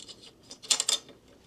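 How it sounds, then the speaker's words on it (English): Small metal hardware for a SHAD SH23 pannier rack, a bolt, washer and arm, clicking and clinking together in a brief close cluster of light metallic taps, no talk. "All we've got to do now is feed the bolt through, connect the arm. There's another washer to go on,"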